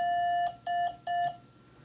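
Morse code CW tones: three clean, steady beeps of even pitch, each about half a second long with short gaps, sounding alone and moderately quiet.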